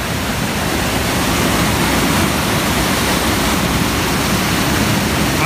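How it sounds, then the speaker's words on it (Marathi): A stream of water pouring into a large natural pool, a dense, loud, unbroken rushing roar heard up close and alone, steady from start to finish. "आणि हाच पाण्याचा प्रवाह."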